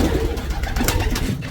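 Racing pigeons cooing inside a loft, soft throaty coos from several birds close by, layered over a low rumbling background.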